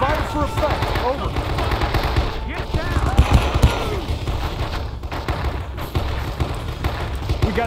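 Machine gun fire crackles in the Men of Valor video game, a dense, continuous rattle of automatic shots in jungle combat, with shouted voices mixed in over the din.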